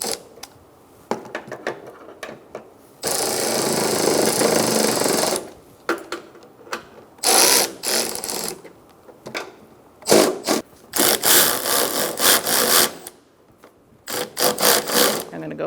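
Tightening bolts on a 2004-2009 Mazda 3 front strut, likely with a power tool: loud buzzing bursts, one long run then several shorter ones in a stop-start rhythm, close by, with quieter gaps between.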